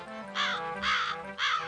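Cartoon crows give three loud, close caws in a steady rhythm, each a harsh drawn-out call with short gaps between, over a faint background.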